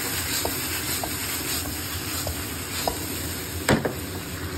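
Pancit alui noodles stirred in a hot pan give a steady, close sizzle and hiss, broken by soft scraping strokes and a sharper clatter near the end.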